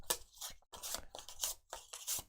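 A small deck of game cards shuffled by hand, three quick riffling bursts of crisp paper flutter separated by short pauses, close and fairly quiet.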